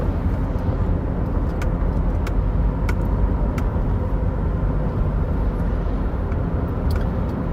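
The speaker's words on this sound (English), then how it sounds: "that car almost passed my lane" Steady road noise from inside a moving car, a continuous broadband rumble and tire roar with faint ticks, as another vehicle passes close alongside in the next lane; no talking.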